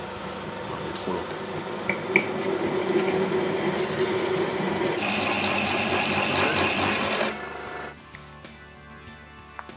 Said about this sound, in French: il ne nous reste plus qu'une chose à faire, c'est de venir percer.